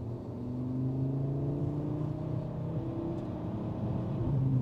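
A Cupra Formentor VZ5 SUV's five-cylinder engine drones and revs up and down at close range in sport mode, its low humming tone sliding in pitch steadily with no talking.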